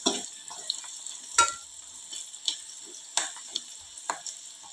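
Rice dish ingredients frying in a pan, a bright continuous sizzle broken by repeated scraping stirs and clinks of a spoon against the metal, close and clear.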